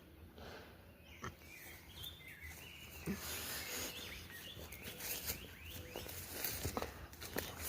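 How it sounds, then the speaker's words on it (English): Birds chirp and call in the woods, a scatter of short tweets at moderate distance over soft rustling and footsteps. "Just hearing all the birds."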